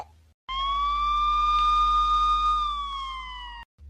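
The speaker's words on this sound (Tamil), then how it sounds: "போலீஸ் வண்டி வந்துட்டு" A loud, steady electronic police car siren tone that holds at a high pitch, then drops slightly and cuts off.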